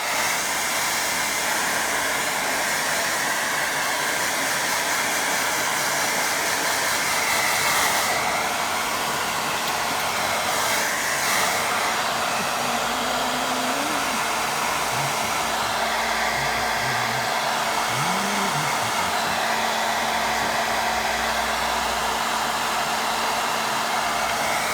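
A hair dryer blows steadily over a watercolour painting, a loud continuous whoosh held close for the whole stretch with only slight shifts as it moves.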